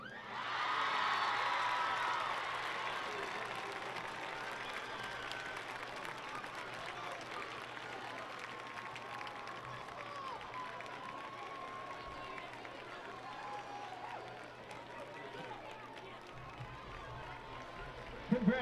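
A football game crowd at a homecoming court presentation claps and cheers loudly. The applause swells early, then holds steady with scattered whoops and shouts for the rest.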